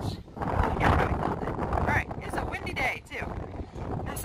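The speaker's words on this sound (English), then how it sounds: "it's a windy day too" Wind blows on a windy day as a strong, rumbling gust noise buffeting the microphone, with a voice partly audible underneath.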